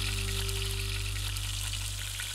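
Venison pieces browning in a pan for a Spanish chilindrón stew, a steady close frying sizzle over a low constant hum with no talk.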